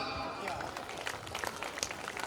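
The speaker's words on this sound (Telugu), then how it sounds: "so claps" Scattered clapping from an audience at a village event, a loose burst of hand claps over a murmur of crowd noise, moderate in level and fairly close.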